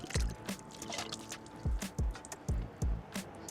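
Water running off the freshly waxed body and windows of an Audi Q5 treated with Sonax HighSpeedWax, heard as irregular close drips and soft wet splats, several heavier plops standing out over a light liquid trickle.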